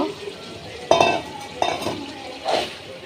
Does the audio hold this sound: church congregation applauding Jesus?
no